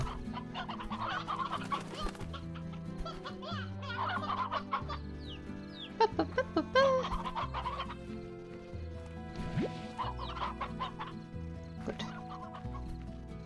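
Chickens cluck repeatedly in the video game Slime Rancher, short clucks and bawks in bursts over a low steady game music bed, with a quick run of sharp clucks near the middle.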